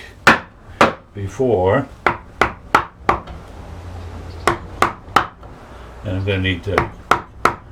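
A carving gouge chops into a wooden board while upright S scrolls are cut, giving a series of sharp, close wooden knocks in an uneven rhythm, with someone talking between the strikes.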